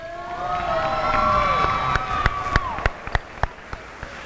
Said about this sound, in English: let's give Matthew Ison another round of applause.